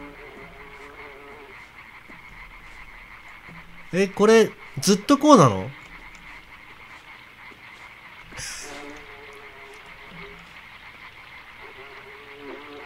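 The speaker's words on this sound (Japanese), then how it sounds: "あ、カエルの鳴き声。" Frog croaking in the video game LIMBO, a faint repeated call within a quiet droning ambience, while a person talks over part of it.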